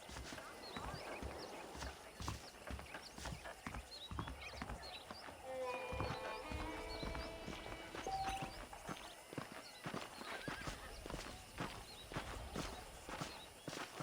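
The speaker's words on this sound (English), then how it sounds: "The horses are saddled up over here." Hooves clip-clopping at a steady walking pace on hard ground in Red Dead Redemption, with a horse snorting and faint ambient sounds around.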